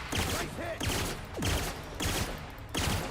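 Gunfire in The Outer Worlds, loud repeated bursts of shots in about four clusters with brief gaps between them, close and dominant with no talk over it.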